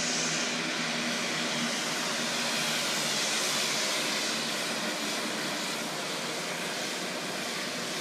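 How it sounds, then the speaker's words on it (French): Small airplane landing on the very short mountain runway at Lukla, Nepal, braking hard right away: a steady, loud broadband roar of engine and rushing air fills the whole stretch without letup, close and continuous, with no voices. "c'est le seul avion qui peut atterrir"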